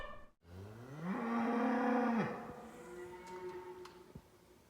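Open range cattle in rural South Dakota moo loudly and close by, one long drawn-out low call swelling and fading, followed by quieter lowing and a few faint ticks.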